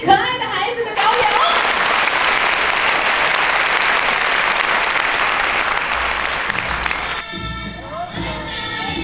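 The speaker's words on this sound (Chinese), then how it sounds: "请大家用热烈掌声来欢迎这批可爱的孩子的表演" A crowd gives warm applause and some cheering to welcome a group of children's stage performance. The clapping roars steadily for several seconds, then gives way to a person talking.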